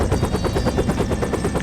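Helicopter rotor in the video game 9th Company: Roots of Terror, a steady loud rhythmic chopping thump that pulses evenly throughout with no voices.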